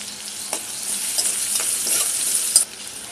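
Tomatoes with a pinch of salt stirred into a sizzling masala for Malvani egg curry, a steady close frying hiss with soft scraping stirs and a brief louder clatter near the end.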